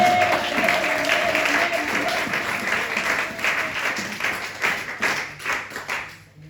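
A church congregation claps and cheers in praise, dense applause filling the room at first, then thinning into scattered, uneven claps that fade toward the end.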